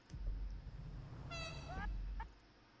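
A short honk sound effect, two tonal horn-like blasts in quick succession over a low rumbling background, fairly close and clear, with no voices.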